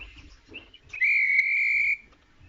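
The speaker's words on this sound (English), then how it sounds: "for the guard to blow his whistle" A railway guard's whistle from a Thomas & Friends episode blows one loud, steady, shrill tone for about a second, preceded by faint shorter chirps and background noise.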